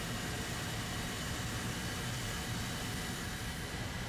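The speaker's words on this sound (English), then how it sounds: "Aren't those airplanes?" Aircraft engines droning in the War Thunder video game, a steady broadband roar that holds evenly throughout with no talking over it.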